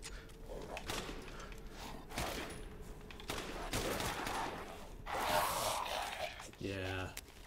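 A shotgun fires in the survival horror game Resident Evil Village, with dense crackling and rumbling game noise throughout and a burst of loud impacts late on, under brief talk.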